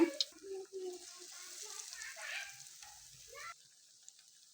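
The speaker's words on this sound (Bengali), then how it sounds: "ঠিক এভাবে একটা একটা করে আমি ভেজে নেব" Pieces of pointed gourd coated in gram flour frying in hot oil, heard as a soft, steady sizzle close by that cuts off near the end, with a voice speaking over the start.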